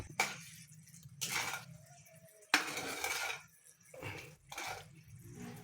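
A utensil scrapes and clinks against a cooking pot in several separate bursts of stirring while biko, a sticky rice cake, cooks, with short quiet gaps between strokes.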